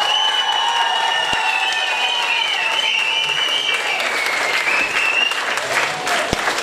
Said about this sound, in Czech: obrovský potlesk pro ní do zákulisí